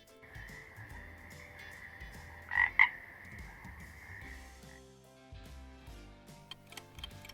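A frog croaks in a sustained, buzzing trill that runs for a few seconds with a brief louder burst partway through, set against soft background music.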